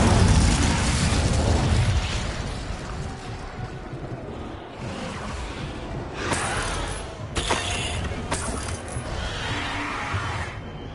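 The Incendio fire spell in Hogwarts Legacy casts with a heavy burst and crackling blast, followed by several sharper pops and shattering hits that trail off into quieter rumble.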